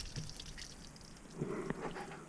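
Water trickling and draining from a campervan kitchen sink in a Ford Connect conversion, faint and close, with soft gurgles and a few small drips and splashes toward the end.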